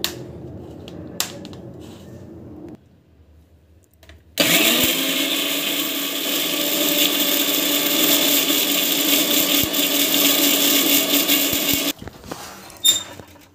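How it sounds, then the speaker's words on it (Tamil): Mixer grinder whirring loudly and steadily as it grinds dried rosemary for a hair pack, starting abruptly after a quiet pause and running for several seconds before stopping. "மிக்சியில் போட்டுட்டு அரைச்சிடலாம்"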